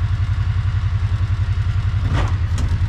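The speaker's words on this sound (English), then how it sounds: "It sounds like we're idling a little too high." A Kawasaki Mule 3010 utility vehicle engine idles a little too high, a loud, steady rhythmic chugging throb close by, with a brief clattering rattle near the end.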